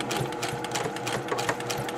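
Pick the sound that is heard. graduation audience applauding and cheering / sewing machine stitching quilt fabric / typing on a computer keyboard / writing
sewing machine stitching quilt fabric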